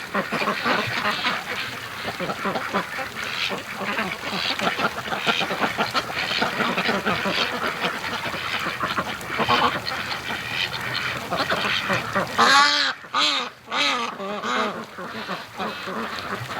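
A flock of free range ducks quacks steadily and busily for the whole stretch, many overlapping calls near and loud, with a few clearer separate quacks standing out toward the end.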